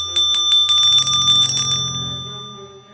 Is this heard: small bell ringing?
yes